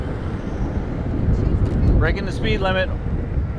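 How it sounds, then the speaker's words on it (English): Continuous wind roar across the microphone during a onewheel ride along a bike lane, with a person speaking briefly partway through. "it's so windy"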